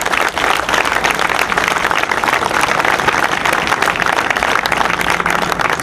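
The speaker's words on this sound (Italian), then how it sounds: "un applauso veramente di cuore a tutti quelli che hanno lavorato" Audience applause for the workers at the opening of a new underpass in Cittadella, a dense, steady, loud clapping from a large outdoor crowd with no pause.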